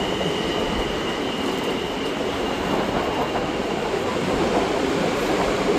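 An Osaka metro train pulling away from a station platform, a loud continuous rumble of wheels on track with a faint steady whine above it, heard close by with no talk.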